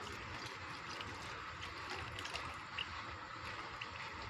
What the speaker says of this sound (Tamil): புளி கரைச்சி வச்சதை ஊற்றிக்கலாம்.